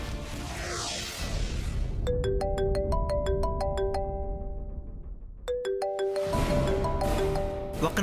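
An incoming call sets off a mobile phone ringtone in a television serial scene: two bursts of a bright, rising chime melody play clearly, separated by a short gap, over faint background noise.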